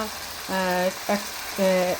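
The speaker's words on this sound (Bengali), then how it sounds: "আমি যেমন সবসময় পেঁয়াজ একটু লবণ দিয়ে ভাজা ভাজা করে" Onions frying with a little salt in a pan give a steady, soft sizzle and hiss throughout, partly under a voice that comes in three short, tonal bursts.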